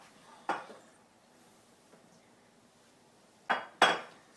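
Dishes and pans clink and clatter during a kitchen cleanup, one sharp knock early and two louder clanks close together near the end, quiet in between.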